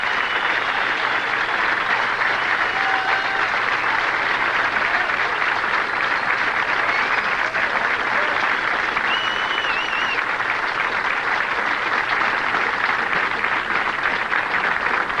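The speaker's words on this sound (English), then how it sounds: "And they're on their feet right now applauding both players." A crowd at a 1989 professional bowling tournament, the PBA El Paso Open, on its feet clapping for both players, a long, even roar of applause filling the hall without letup, faint commentary tones underneath.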